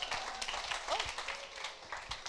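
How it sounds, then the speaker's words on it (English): Church audience applauding after a panel discussion, a dense steady wash of many hands clapping for a couple of seconds, with faint voices mixed in. "Can I get a round of applause?"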